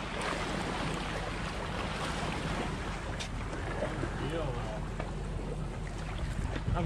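Steady rushing of ocean water and wash around a moving boat off the coast of British Columbia, with wind buffeting the microphone throughout; continuous and fairly loud.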